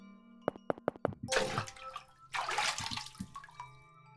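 Water in a video game splashes and gushes in two loud bursts after a string of sharp clicks, with softer drips and trickles between and after them.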